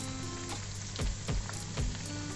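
Akara bean fritters fry in hot oil with a soft, steady sizzle and occasional light pops and bubbling, close and without voices.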